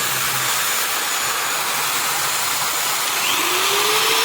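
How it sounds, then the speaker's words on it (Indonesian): A 500-watt angle grinder runs continuously at full speed, a loud, steady, close-up broadband whine with no pauses and no talk. "Nah, ini gerinda ini 500 watt. Nah, kita coba tes di sini. Kita nyalakan."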